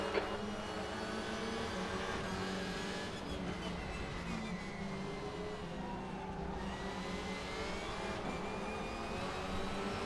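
Racing car engines in a racing video game, including a Civic, a continuous layered whine and drone of several engines held at high revs, steady and moderately loud throughout.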